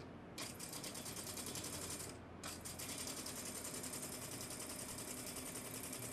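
A sewing machine stitches along a fabric edge in a steady, rapid mechanical run. The close rattling whir continues almost without a break, with only a brief dip in the middle.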